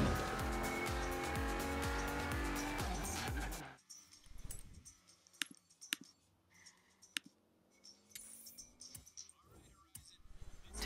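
In Forza Horizon 3, a Quartz Regalia drives with a loud engine drone and game music that cut off abruptly, followed by scattered clicks, tire squeals and quieter engine sounds heading toward a drift zone.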